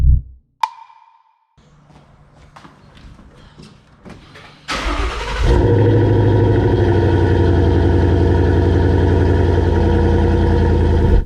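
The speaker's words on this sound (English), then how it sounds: "They're doing donuts?" Cars doing donuts: after a few seconds of near quiet, a loud engine roar bursts in and holds steady and close at high revs for the rest of the clip.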